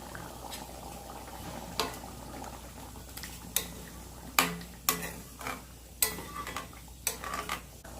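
Simmering chickpea curry in a pan bubbles steadily, with scattered soft pops and occasional sharper clinks of a utensil against the pot, close and alone.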